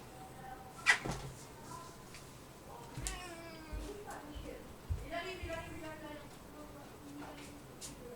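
A house cat meows repeatedly while waiting for kibble, several drawn-out calls spread over the clip at close range, with a cupboard or bowl clatter and people talking nearby.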